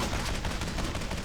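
Dense, rapid gunfire and cannon blasts boom continuously in a World of Warcraft battle at Grimrail Depot, loud and crowded with no pauses.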